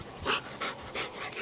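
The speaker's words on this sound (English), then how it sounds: "that's a happy dog right there" A happy three-legged dog pants close by in a steady, breathy rhythm of several quick huffs, with no talking.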